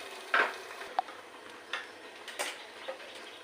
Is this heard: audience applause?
no